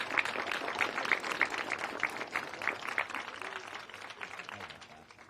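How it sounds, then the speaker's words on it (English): Crowd applause at a junior karting race in Al Ain, a mid-distance patter of many hands with a few sharper individual claps, gradually fading over about five seconds. "one big final round of applause for your OKN"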